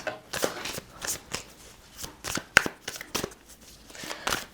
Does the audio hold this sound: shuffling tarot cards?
yes